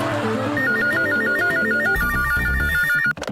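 A telephone rings with a looping electronic ringtone melody, steady and loud, over background music in a Hindi family sitcom home, ending abruptly.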